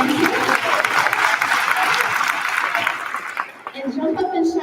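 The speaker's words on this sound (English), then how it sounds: "let's give a round of applause" Audience at an education keynote giving a round of applause, dense clapping for several seconds that thins out as voices and talk take over near the end.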